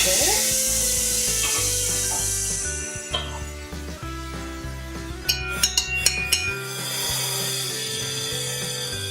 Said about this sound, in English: We do start the broth with the ginger, white half of the scallions, ginger